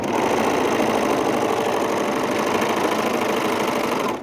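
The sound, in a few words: overlocker sewing machine stitching pants seams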